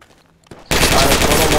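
Gunfire in the tactical shooter Project Reality: after a quiet moment and a single faint click, a loud, continuous burst of close automatic fire erupts and fills the rest of the moment.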